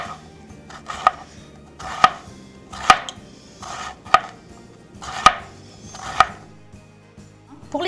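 A kitchen knife chops through fennel in a slow, even rhythm, each firm thud landing about once a second on a board, close up and with no other sound.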